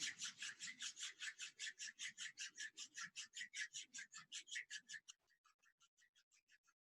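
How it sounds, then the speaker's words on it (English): Palms of the hands rubbing together gently in a steady, even rhythm of about two dozen close, soft swishes, softening and quickening for a few faint strokes at the end. "I would like you to start to gently rub the palms of your hands."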